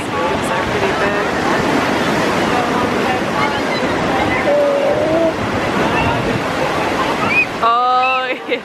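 Large ocean waves break on a California beach in a constant loud wash of surf with wind noise, and voices briefly rise over it toward the end.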